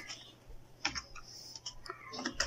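Fast computer keyboard typing while entering network simulation code, soft irregular key clicks in short bursts, close and fairly quiet.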